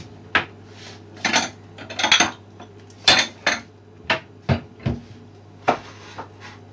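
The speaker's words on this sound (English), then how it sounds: "I always break the eggs over some small bowl before I dip it into the cake" Eggs cracked one after another against the rim of a small bowl while making a Polish fruit cake, a string of sharp, close clinks and taps in an uneven rhythm over a low steady hum.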